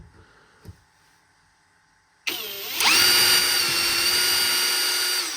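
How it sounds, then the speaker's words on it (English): After a near-silent start, a power drill whirs to life abruptly and holds a loud, steady high-pitched whine. "I'm just pretty hyped to use power tools"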